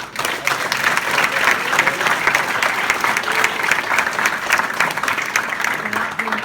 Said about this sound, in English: Can we actually give a round of applause to that?